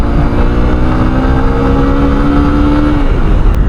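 Honda Unicorn motorcycle engine pulling under acceleration, a loud, steady droning exhaust with a rising tone held for several seconds, close and without talk.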